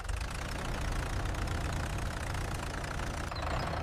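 Tractor and backhoe loader engines from a 3D farm-work animation run at a steady, low, rumbling idle with a faint knocking texture. The noise is continuous and even throughout, with no voices.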